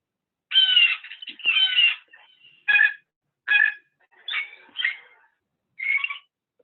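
Recorded bird calls played back from a downloaded MP3: a string of about seven loud, harmonic chirping and squawking bursts, some long and some clipped, separated by short silences with no talk.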